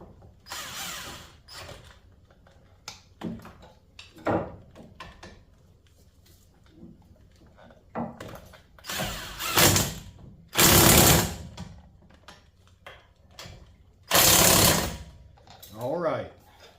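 A power tool or impact gun tightens brake caliper bolts on a Chevrolet Silverado in short separate whirring bursts, several loud ones, with quiet gaps, clinks and handling noise between them.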